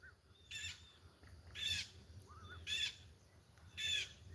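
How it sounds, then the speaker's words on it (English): A bird gives four loud, harsh calls at a regular rhythm, about one per second, over quiet background noise. "What kind of bird is that? Why is it making so much noise?"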